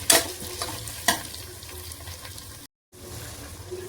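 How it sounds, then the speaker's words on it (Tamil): Onions sautéing in a pan for chickpea biryani give a steady sizzle and fry, with a couple of sharp stirring clatters near the start and a brief dropout before the sizzling resumes. "நல்லா வதக்கி விட்ருங்க."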